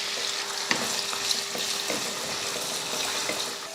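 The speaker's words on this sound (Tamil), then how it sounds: "இப்போ எண்ணெயில் போட்டு வதக்கிக்கலாம்." Carrot and potato frying in oil in a kadai, a steady close sizzle broken by scattered clinks and scrapes of stirring, with no one talking.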